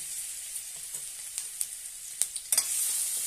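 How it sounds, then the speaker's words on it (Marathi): Green chili, ginger and garlic paste frying in hot oil, giving a steady soft sizzle broken by a few sharp spattering pops and stirring clicks toward the end, with no voices. "तेल गरम झालेलं आहे, त्यामध्ये आपण हे वाटण तयार केलेले ते हिरवी मिरची, आलं आणि लसूण ते घालूया"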